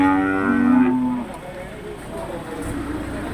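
A Limousin breeding cow at a livestock market gives a loud, drawn-out low moo near the start, followed by background market murmur and voices.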